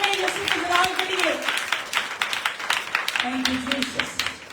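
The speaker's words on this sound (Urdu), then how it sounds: "آپ کی تالیاں بتائیں گے، زور بتائیے میں یسوع کے جلال کے لیے۔" A congregation at a Christian prayer session claps in a steady rhythmic beat, the claps running underneath an evangelist's loud voice throughout.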